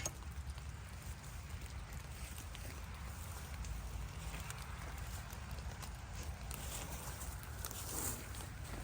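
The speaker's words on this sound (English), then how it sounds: "It's pouring rain." Heavy pouring rain falls outdoors in wet conditions, a dense, constant hiss and patter that holds steady throughout with no voices over it.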